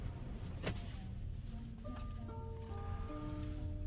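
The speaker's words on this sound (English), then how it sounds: "it does have that nice BYD exit sound" A BYD eMAX 7 Standard plays a short melodic electronic chime after being switched off. The tones step upward in a few clear notes over a low, steady cabin hum.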